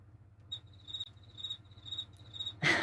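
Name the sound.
cricket chirping sound effect played from vMix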